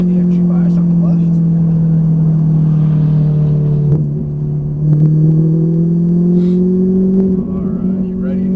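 A Ferrari 458 Italia engine on a race track at Exotics Racing, giving a loud steady in-car drone that dips briefly and then climbs again under acceleration, with a voice talking over it.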